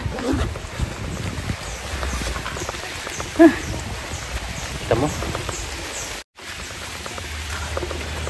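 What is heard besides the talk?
heavy rain pouring while hiking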